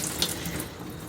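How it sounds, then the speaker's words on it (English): Warm water running steadily from a tap into a bowl of harvested seeds, a continuous close splashing hiss with no talk over it. "I'm going to add a little bit of warm water to the bowl just to mix it around a bit"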